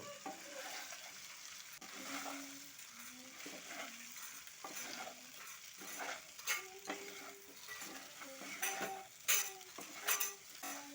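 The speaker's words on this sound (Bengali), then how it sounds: "এবারে এগুলো খুব ভালো করে তেলের সাথে মিশিয়ে নেব" Chopped cabbage being stirred and mixed with oil in a pan, soft quiet sizzling under irregular scraping and light clinks of a utensil against metal, growing busier toward the end, with no voices.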